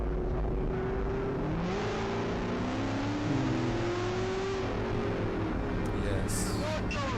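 A car engine revs from a dash cam recording, its rising and falling pitch sweeping steadily across the whole stretch under a constant road roar.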